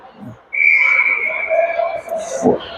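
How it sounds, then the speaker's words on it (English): Referee whistle at a youth bantam ice hockey game, one long sharp blast of about two seconds, loud and close, over arena crowd noise, with a brief thud near the end. "We got a whistle, maybe a hand pass."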